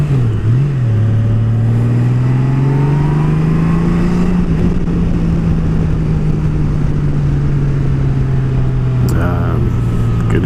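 A 2018 Honda Goldwing motorcycle accelerates on a test ride, its engine droning steadily close-up with a slowly rising then easing pitch under loud wind rush, and a rider's voice occasionally present.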